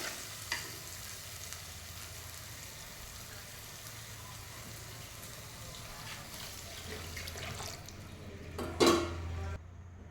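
Soaked tamarind water poured into a hot pan of sautéed onion mixture, a low steady bubbling sizzle with light stirring and a brief louder splash near the end before fading.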